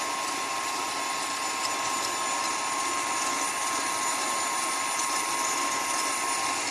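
An electric mixer whips cream in a bowl, a steady, high-pitched whirring motor drone running evenly and loudly without a break, no talking over it.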